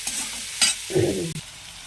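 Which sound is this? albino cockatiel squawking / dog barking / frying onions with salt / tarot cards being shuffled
frying onions with salt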